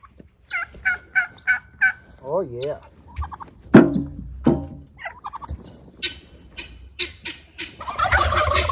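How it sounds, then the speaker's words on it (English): Turkeys on a homestead gobbling near the microphone, a run of loud rippling gobbles, some in quick regular succession and others overlapping, followed by a denser flock chorus at the end; someone speaks a couple of words. "Oh, my turkeys."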